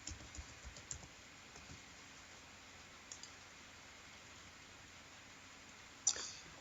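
A login password being typed on a computer keyboard: a few soft, sparse key clicks over faint background hiss, ending with one sharper keystroke, no talking.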